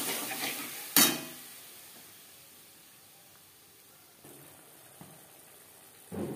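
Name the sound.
spice paste added to frying tempering, sizzling and stirred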